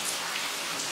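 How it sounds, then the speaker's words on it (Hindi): Steady broadband hiss of rain falling hard on an outdoor surface during a morning downpour with strong wind, continuous and even across the whole second with no voices. "सुबह के 7:30 बज रहे हैं और उठे देखा तो बारिश हो रही है"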